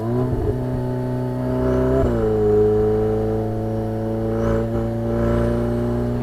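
A Ferrari with a mid-mounted V8 driving in sport mode, a steady engine drone from the cabin with a brief shift or rev change, smooth and continuous at moderate loudness, with no talking.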